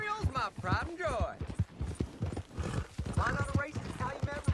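Horse hooves clip-clop steadily in Red Dead Redemption II, a rhythmic clatter running beneath continuous conversation between characters.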